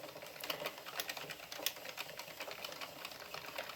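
An Addi Pro knitting machine cranks through rows of a mitten, giving a steady, close, rapid clatter of needles and carriage that continues unbroken throughout.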